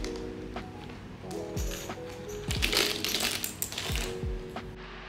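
Keys jingle and clink as they are packed into a bag, a few sharp metallic taps and rattles at close range.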